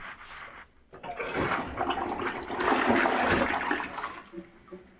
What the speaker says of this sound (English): Now that's a powerful flush.